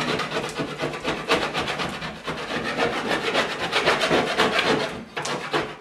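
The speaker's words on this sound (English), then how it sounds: "just take a wide knife, and we're gonna scrape all the popcorn off." A wide knife scrapes popcorn texture off a ceiling in steady, continuous strokes: a loud, close, gritty rasping that runs almost without a break, with a brief pause near the end.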